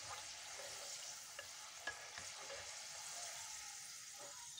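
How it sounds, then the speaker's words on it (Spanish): Pork loin pieces browning in a pan produce a soft, continuous sizzle, fairly quiet and even, with a few faint ticks and light clicks from the pan. "Simplemente dorar, ¿eh? Las doramos, le falta un poquito para terminarse."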